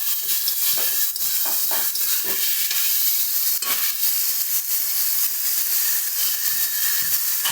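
Fried potatoes being stirred into chicken mince ghugni in a pan, a loud continuous sizzle and hiss with steady scraping strokes of a spatula, close up and without voices.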